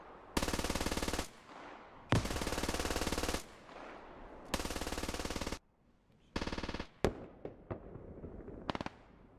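Automatic gunfire in the SquadOps video game comes as several long, loud sustained bursts, then shorter bursts and a few sharp single shots, with brief silences between them.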